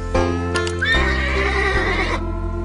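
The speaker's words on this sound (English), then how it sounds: "That's a horse." A synthesized horse neigh from a children's computer farm-animal program, a loud whinny with shaky harmonic pitch lasting about two seconds, heard on its own without talk.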